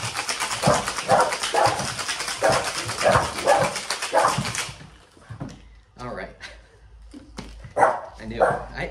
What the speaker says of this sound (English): I just got a puppy and he's gonna bark at this